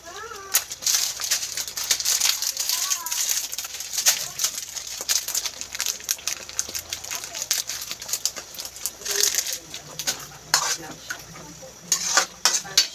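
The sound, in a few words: pork cubes cooking and being stirred in pan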